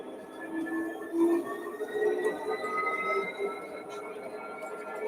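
A model railway train runs along its track, a steady mechanical rumble and whir that rises and falls slightly, with faint squealing tones over it and no talk.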